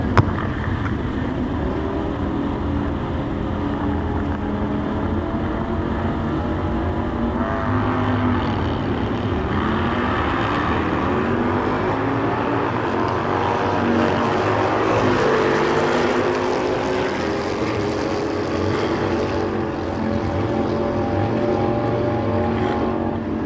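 An early-2000s Harley-Davidson Sportster drag racing motorcycle roars loud and steady for over twenty seconds at a drag strip, its engine tone rising and shifting midway with no one talking.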